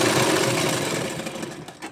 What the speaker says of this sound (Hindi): अब हमें यहाँ से सिलाई लगा देना है ऐसा।